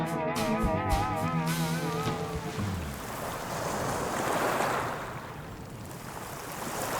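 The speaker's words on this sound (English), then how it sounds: "Just arrived at Tubang Beach" Surf rolling onto Tubang Beach on the Chatham Islands, a steady wash of breaking waves with wind buffeting the microphone; a short whistling tone sounds at the start before the surf takes over alone.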